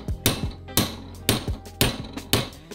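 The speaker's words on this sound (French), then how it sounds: "Mon idée c'est de caler cette petite chute là, de taper dessus." A hammer striking a small metal offcut while repairing a Nissan Patrol GR off-road 4x4, giving five sharp, ringing, evenly spaced metallic blows, close and loud, with no voices.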